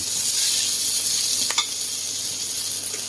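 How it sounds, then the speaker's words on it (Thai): Pad see ew ingredients are stir-fried together in a pan, producing a loud, dense, unbroken sizzle with one brief clatter of the utensil partway through. "ผัดผัดผัดใหเข้าด้วยกัน"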